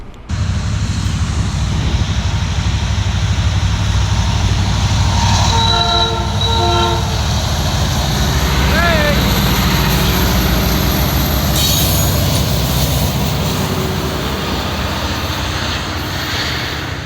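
A train passing alongside a Michigan rail trail, a loud steady rumble of wheels on track with a brief two-tone horn and a thin squeal, heard close by without talking.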